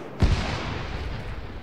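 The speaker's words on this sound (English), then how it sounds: "Or is it an AR that's firing?" A single heavy, booming report from an AR rifle in Arma 3, loud and punchy, followed by a long rolling echo that slowly decays.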